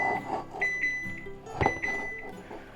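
A kitchen oven signals that preheating is done with a string of short electronic beeps, some spaced and one louder burst, heard amid light household noise.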